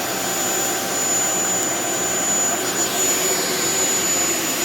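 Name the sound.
Shark Vertex corded stick vacuum running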